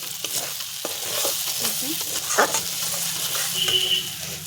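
Spice paste fries in oil with a steady, close sizzle while a spoon stirs and scrapes through it, continuous throughout with occasional brief knocks against the pan.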